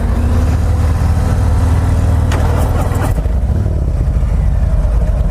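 A 2021 Harley-Davidson Road Glide or Indian motorcycle engine idles loud and close in a steady deep rumble, with a brief rise in revs midway before settling back, with no talk.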